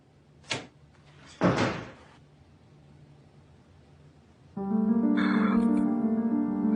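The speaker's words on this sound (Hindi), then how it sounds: "दरवाजा बंद करो।" A door in a Hindi-dubbed drama closes with a soft knock and then a louder, longer thud and rattle, followed by a quiet pause before music swells in.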